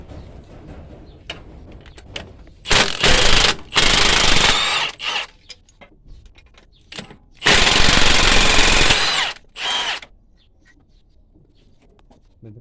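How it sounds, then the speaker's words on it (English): A power tool drives off nuts on a Mitsubishi Galant transmission mount using a size 17 socket on an extension, sounding in loud rattling bursts of a few seconds each, with quiet gaps and brief clicks in between. "to remove these nuts, we're gonna use a size 17 socket with an extension"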